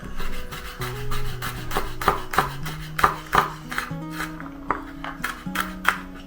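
A knife slices through a large pile of garlic cloves on a cutting board in a series of crisp, close cuts, each ending in a tap on the board, in an uneven rhythm with no talking.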